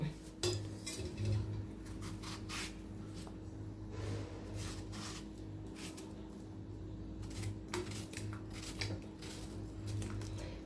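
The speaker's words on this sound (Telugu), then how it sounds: "అరటికాయలు మనం సన్నగా కట్ చేసుకుందాం" Raw green banana is sliced into thin small pieces with a knife, giving a quiet series of irregular tapping cuts against a board over a low steady background hum.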